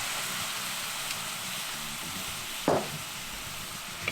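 White wine hits a hot risotto pan while arancini are being made, giving a steady hissing sizzle with a brief louder splash of liquid near the end, close and without talk.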